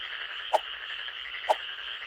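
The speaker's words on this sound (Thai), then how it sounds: "เสียงแบบนี้กบแน่นอน" A frog croaks twice, about a second apart, each call a short faint pop over a steady background drone of insects or night noise.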